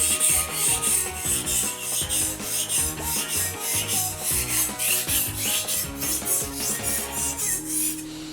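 Steady rhythmic scraping of a double-bevel chef's knife pushed back and forth across a whetstone, close up and continuous, with no talking.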